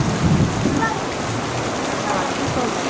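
Heavy Kalbaishakhi storm rain pours steadily on surfaces in a village, a dense continuous hiss at even loudness with low rumbling underneath that suggests distant thunder.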